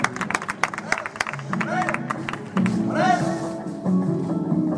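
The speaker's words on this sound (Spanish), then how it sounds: "Un aplauso para este chaval." A crowd at a youth contest gives scattered applause for a young contestant, with claps and taps breaking through a busy hall while an announcer's voice and crowd chatter carry on over them.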